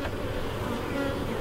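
Honey bees swarm around an opened hive during an inspection, a dense, steady buzzing close to the microphone with no talk.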